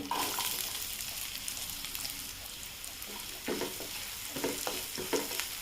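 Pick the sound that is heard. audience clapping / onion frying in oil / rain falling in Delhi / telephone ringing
onion frying in oil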